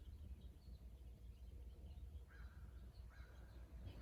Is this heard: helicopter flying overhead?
no